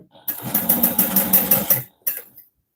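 A serger sewing machine runs in short, rapid bursts. Its chattering motor stitches loudly and close for about two seconds, pauses, then gives one more quick burst.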